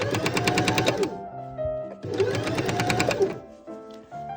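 A sewing machine stitches curtain tape onto fraying silk satin in two fast, rapid-fire bursts of about a second each, separated by a short pause with faint handling noise, close and clear.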